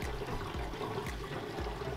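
Water drains from a portable twin tub washing machine in a steady, close gurgling trickle with rhythmic sloshing pulses.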